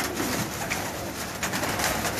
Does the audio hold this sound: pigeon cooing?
yes